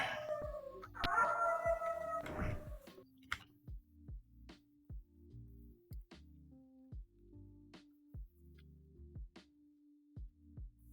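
Dogs bark and howl in Eye of the Beholder III, starting with a loud drawn-out howling chorus and giving way to a steady run of short, repeated barks at moderate loudness.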